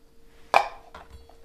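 A single sharp knife chop lands on a board while an onion is sliced thin, followed by a fainter second cut in an otherwise quiet kitchen.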